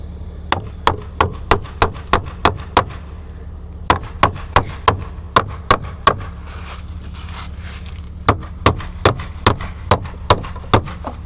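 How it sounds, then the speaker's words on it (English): Sharp hammer blows pounding car trim back into place come in quick bursts of several strikes with short pauses between, crisp and close against a quiet background. "I'm gonna take my hammer and try and pound that back in"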